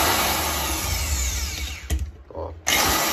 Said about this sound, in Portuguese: O próprio peso da furadeira, ó, às vezes já fura.